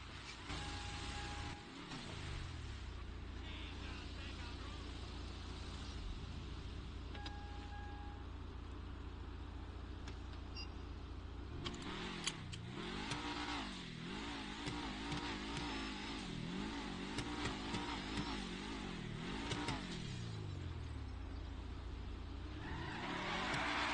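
Dodge Hellcat driving in a roleplay video game, a steady engine drone with revving that rises and falls in repeated sweeps during the second half, loud and close throughout.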